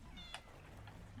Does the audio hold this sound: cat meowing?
yes